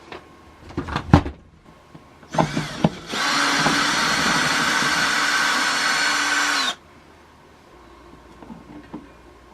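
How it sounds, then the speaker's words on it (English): A power drill bores a hole during a diesel heater installation in a Zephyr, a steady whine of about four seconds preceded by a few clicks and handling knocks. "Drill my hole."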